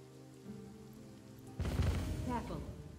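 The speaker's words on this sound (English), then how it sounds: "Now we're gonna put some rain on it" Rain spell cast onto fire in the fantasy role-playing game Divinity: Original Sin, a soft hum that suddenly gives way to a steady rushing patter of rain, moderately loud and continuous, with no talking.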